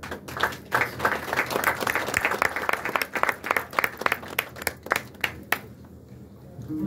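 Audience applause at a partnership signing ceremony in Cap Skirring, Senegal, a dense spread of hand claps that thins into distinct individual claps toward the end and fades out.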